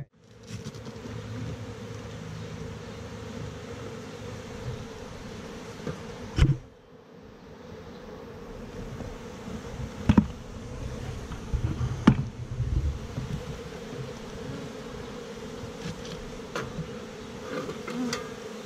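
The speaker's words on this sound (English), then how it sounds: "So now that we've got the bees moving" Steady buzzing of many bees drones throughout, with a few sharp knocks and thumps breaking through; no one speaks.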